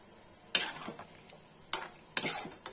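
Creamy malai chicken gravy cooks in a pan with a faint low sizzle, broken by three or four sharp scrapes and taps of a spoon stirring against the metal, close and quiet, no talking.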